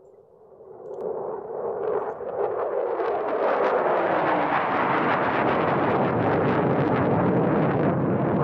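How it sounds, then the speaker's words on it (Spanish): A jet aircraft roar sound effect swells in from a quiet start over the first second, then holds as a loud, broad, steady rushing roar with no talking. "Sonido de jets, ahí está, mira, sonido de jets."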